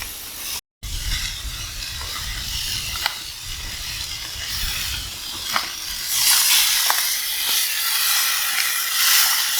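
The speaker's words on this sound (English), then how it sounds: "I went ahead and put on our spicy steaks here so that they can start cooking" Spicy steaks cook in a hot pan with a continuous hissing sizzle and occasional crackles, growing brighter and louder toward the end, heard up close with no talk.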